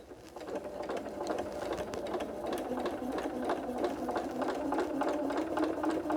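A sewing machine runs steadily, stitching through a quilted Santa cookie rug with a continuous rapid mechanical chatter at close range, holding an even loudness with no talking over it.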